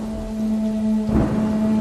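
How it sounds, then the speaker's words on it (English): A steady hum gives way to a low rumble of thunder, with a broad wash of rain noise underneath. "suddenly there was a loud clap of thunder with lightning, and it started raining heavily."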